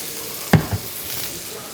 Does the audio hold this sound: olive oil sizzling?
yes